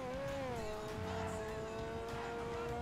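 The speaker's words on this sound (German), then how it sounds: "So, ich präsentiere den Grotti Carbonizzare. Das beste Auto in GTA Online." A Grotti Carbonizzare sports car in GTA Online hums with a steady, sustained engine drone, its pitch dipping slightly early on and then holding level, with faint background noise throughout.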